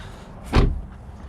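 Door of a wrecked Mini Cooper Countryman S ALL4 shuts with a single close thud midway, a short solid slam over quiet background.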